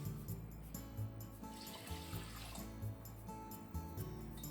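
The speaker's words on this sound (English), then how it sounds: "It's 2 cups of rice, so let's add 2 cups of water." Water poured from a tap into a pot holding two cups of rice, a steady running splash with faint music underneath, close and continuous.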